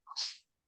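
A single short sneeze in a committee meeting room, a quick sharp burst heard alone against silence.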